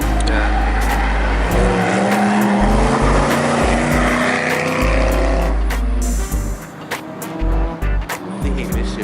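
Race cars roar past at a race track with loud, sustained engine drone that dips and returns as cars pass, heard close with brief gaps near the end.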